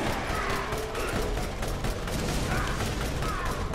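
Rapid mechanical gunfire and clanking weapon handling from a Borderlands shooter game, a busy dense burst of shots and ratcheting clatter filling the moment, with faint voices beneath.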